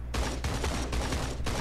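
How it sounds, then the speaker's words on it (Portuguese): Gunfire in the video game Creative Destruction, a burst of rapid, loud shots in quick succession with short gaps, heavy low-end booms filling the whole stretch. "Um tiro do outro lado também à esquerda"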